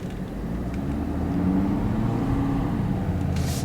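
A truck engine starts and settles into a steady low idling rumble close by, with a faint brief click near the end and no talking.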